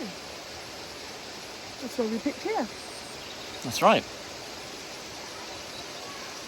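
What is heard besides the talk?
waterfall at Lydford Gorge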